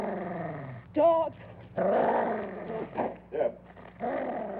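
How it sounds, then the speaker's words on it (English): A dog growls in several uneven bursts, close and fairly loud, with rough rumbling tones and short whiny rises between pauses. "Dog."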